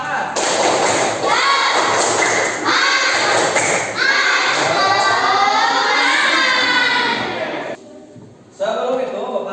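A fifth-grade class in Indonesia performs a rhythmic spirit clap, loud close bursts of many hands in patterned beats mixed with children's shouting and voices.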